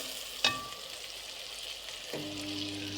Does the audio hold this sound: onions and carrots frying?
yes